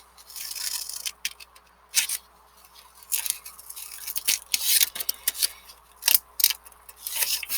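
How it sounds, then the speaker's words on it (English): Scissors snip through folded paper to cut out detailed snowflakes, with close, crisp clicks and scrapes coming in irregular bursts and short pauses between them, no voices present. "it's also fun just to cut out just regular shapes like triangles and circles and stuff too"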